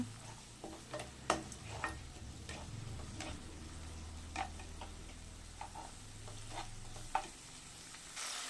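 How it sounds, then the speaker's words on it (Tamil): Soft sizzling with scattered ticks and scrapes as ginger garlic paste is stirred and sautéed in a pan for carrot tomato rice, steady and low, with no voices. "இஞ்சி பூண்டு விழுது கொஞ்சம் போட்டுக்கலாம் அதையும் நல்லா பச்சை வாசம் போகிற அளவுக்கு வதக்கிக்கோங்க"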